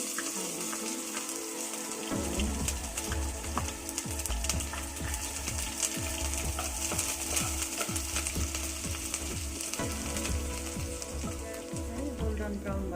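Dry chilies and onion dropped into hot oil with fenugreek seeds, crackling into a loud, dense, steady sizzle with rhythmic stirring scrapes, a quieter moment before the ingredients go in.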